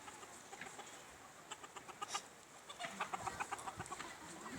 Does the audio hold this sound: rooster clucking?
yes